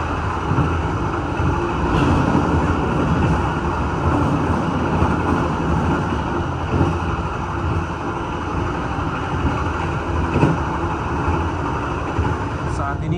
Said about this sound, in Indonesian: Kereta api Mataram melintas stasiun Kebasen